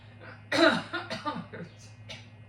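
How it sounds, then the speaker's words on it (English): One harsh, close cough bursts out, followed by a few smaller throaty rasps and a low steady hum underneath. "It hurts so much to cough."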